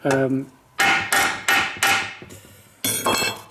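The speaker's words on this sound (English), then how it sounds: "when you hit it with a hammer, it makes it come in a wee bit easier" Sharp metallic hammer blows ring out on a welded metal part while relocating a Nissan 200SX S14 steering rack, about six strikes in an irregular rhythm, each with a bright clanging decay.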